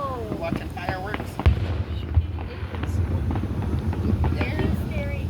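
A grand finale of more than a hundred fireworks fills the night with dense, rapid booms and crackles, close and loud, while people talk excitedly over the blasts.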